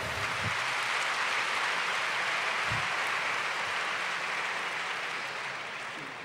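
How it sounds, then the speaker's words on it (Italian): A Motomondiale paddock meeting crowd applauds the veteran rider Marco Simoncelli, a dense, even wash of clapping that stays loud for the whole stretch and thins slightly toward the end. "Applauso non meritato, meritatissimo."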